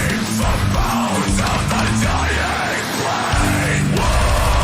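A metal vocalist growls and yells over a dense, loud played song, the harsh voice riding on a driving beat throughout.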